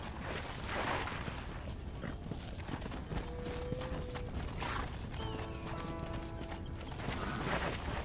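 Horse hooves clip-clop steadily in Red Dead Redemption, close and continuous under a dense bed of game ambience, with some creaking tack and a few brief tonal game sounds layered over the hoofbeats.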